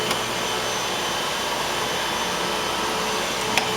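A Eureka Boss Smartvac 4870 vacuum cleaner runs steadily and loudly up close, its stiff bristle brush beating carpet with a constant broadband whir.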